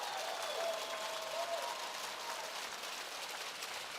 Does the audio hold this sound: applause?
yes